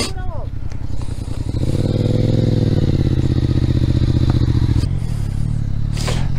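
Suzuki GSX-R 600 motorcycle engine running loud and close, with a steady high-pitched drone that rises and holds, then drops near the end, while voices talk over it.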